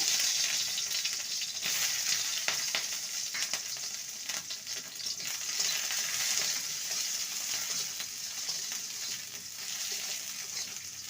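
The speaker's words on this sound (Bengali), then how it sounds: "ওই তেলে আমি ক্যাপসিকাম ভেজে নেব" Steady, close oil sizzle and crackle of capsicum frying in a pan, continuous throughout with occasional stirring scrapes and no talking.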